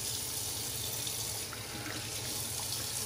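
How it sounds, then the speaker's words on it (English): Water runs from a bathroom tap into a sink in a steady, continuous gush while the face is wetted before a shave, close and unbroken with no voices. "Let's get the face wet, and we'll start rubbing La Toja on our face."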